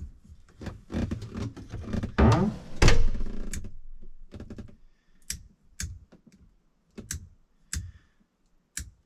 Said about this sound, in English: So it's just a single pull switch.